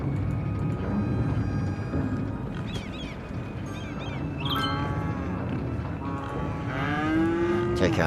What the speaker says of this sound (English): the sound of the mooing